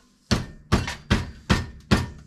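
Hammer striking five times in a steady, evenly spaced rhythm, each blow a sharp loud thunk with quick decay, close by with no talk over it.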